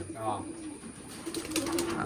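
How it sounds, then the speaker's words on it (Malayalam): Soft pigeon cooing sits beneath a voice, low and continuous, fairly close. "കുഞ്ഞുങ്ങള് പ്രാവുകളെല്ലാം ഇങ്ങനെ നിരത്തി നിർത്തിയേക്കാണ്"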